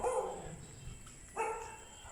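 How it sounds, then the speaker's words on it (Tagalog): A dog barks twice at a distance, two short separate woofs about a second apart, fairly faint, with no voices. "Ayong aso, tinahol tayo."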